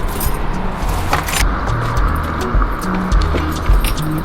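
A bunch of keys jangles and clinks close by as someone fumbles to lock a house door, irregular metallic chinks over a low background rumble.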